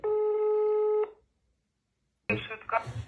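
A telephone call placed to the Ukrainian emergency number 103 for an ambulance: a steady electronic tone for about a second, then silence, then a voice comes on the line and speaks.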